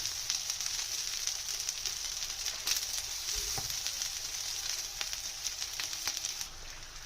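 Mixed vegetable kebabs frying in oil on a low flame, a steady soft sizzle with occasional faint pops and crackles, close and continuous, without talk.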